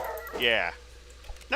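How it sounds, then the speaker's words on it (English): Dog barking from a video game, a single harmonic yelp-like bark over a quiet background with someone speaking briefly around it. "Ooh, that's a dog."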